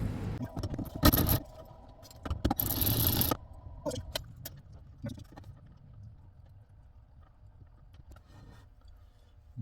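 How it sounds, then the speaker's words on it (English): Working 10mm bolts loose on a 2018 Mazda 3 driver-side mirror: metallic clicks, scrapes and a few sharp knocks, clustered early and then thinning into sparse taps over low background noise. "Now we got to take off those 3 bolts. Looks like they're 10mm bolts."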